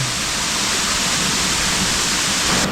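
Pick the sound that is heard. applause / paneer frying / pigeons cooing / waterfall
waterfall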